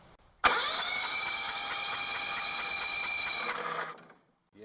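A Westwood T1200 garden tractor engine, spark plug removed and cylinder full of fluid, cranks over steadily for about three seconds with a fast, even chugging whir and no firing, then stops abruptly.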